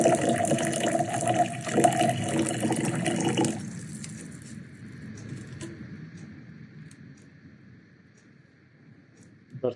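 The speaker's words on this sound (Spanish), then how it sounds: "Vertimos nuestra agua y ahora procedemos a verter el aceite." Water tinted with food colouring is poured into a container for a fluid-properties demonstration, giving a loud, steady splashing rush for about three and a half seconds before it drops to a faint trickle and quiet room tone.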